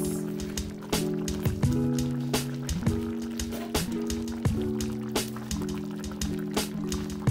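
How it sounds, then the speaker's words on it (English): Stockfish and beans drop into a pot of egusi soup, giving soft wet plops and squishy splashes repeating at a steady pace close up, with a ringing tonal hum running underneath. "in goes the stockfish"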